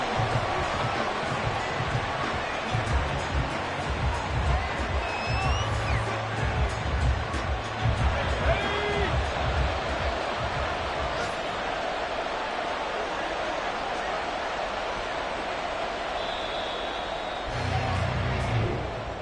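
A football stadium crowd roars and murmurs in a broad wash of noise at the end of a game, with a few brief whistles and shouts rising out of it.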